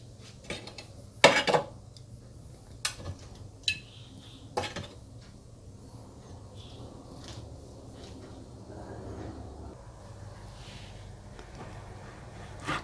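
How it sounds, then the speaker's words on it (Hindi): A knife slices cooked beef steak into thin strips on a board, giving scattered sharp taps and clinks early on, followed by quieter soft cutting and handling, with no voices. "और इस तरह से आप कटिंग कर लीजिएगा।"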